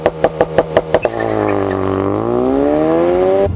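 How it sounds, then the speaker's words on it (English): A Subaru WRX hatchback's engine sounds off while driving: a loud burst of rhythmic, throbbing boxer-style pulses gives way to a sustained, rising engine drone as the car pulls hard through the gears. "There's nothing like the Subaru rumble at all."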